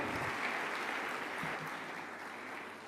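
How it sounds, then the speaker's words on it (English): Sustained applause from a large audience at a presidential private sector forum, a broad even wash of clapping that stays steady and slowly fades slightly over three seconds. "Another massive round of applause"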